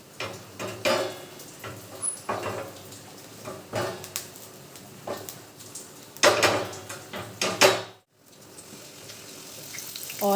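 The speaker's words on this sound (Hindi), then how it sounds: "उसको मैंने तवे में डाल दिया और एक चम्मच से उसको पूरे तवे में फैला रही थी" A spoon spreads chhau roti batter across an oiled tava griddle, scraping in uneven bursts with a sizzling hiss that drops out briefly near the end before returning.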